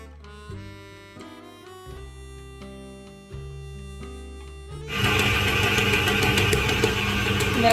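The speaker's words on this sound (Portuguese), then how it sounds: "Você segura a batedeira porque ela começa a sentar, fica batendo a massa de um lado pro outro." A stand mixer kneads Austrian sweet Easter bread dough, running as a steady motor drone that swells much louder and harsher partway through as the sticky dough slaps around the bowl, with no talk over it.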